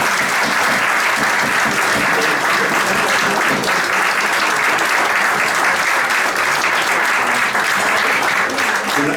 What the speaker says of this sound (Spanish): Un aplauso más que merecido